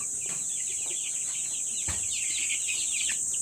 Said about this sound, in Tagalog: Ito yung mga alaga nating mga manok.